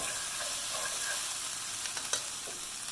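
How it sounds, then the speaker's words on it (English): Beef stew ingredients for Vietnamese bo kho are stirred in a pot over gentle heat, a continuous hissing sizzle with faint utensil scrapes and a sharper clink near the end. "Get that all stirred up."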